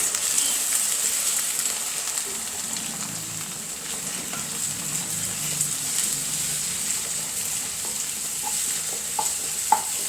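Food fries in a pan with a continuous soft sizzle while a utensil stirs it, making scraping and occasional light taps close by.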